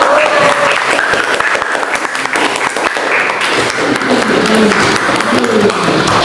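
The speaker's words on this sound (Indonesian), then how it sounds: "Beri aplaus dulu untuk kelompok." A classroom group of students applauds after a group presentation, a dense sustained wash of clapping with voices mixed in throughout.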